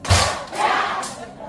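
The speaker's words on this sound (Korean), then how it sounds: "제가 박수 한 번 시작하면 말 안 하고 짝 친 다음에 야 말은 나중에 할게요." At a senior college lecture, a group of elderly participants gives a single sharp clap followed by a brief collective shout, then a short second vocal swell fading out.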